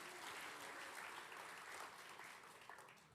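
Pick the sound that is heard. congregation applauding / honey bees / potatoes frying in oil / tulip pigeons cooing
congregation applauding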